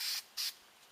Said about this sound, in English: spray it on the back of a sheet of sandpaper,